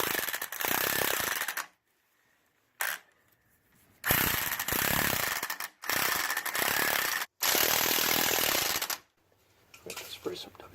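Loud bursts of grinding, ratcheting mechanical noise from tightening a bolt on a spring, coming in several separate spells broken by short pauses.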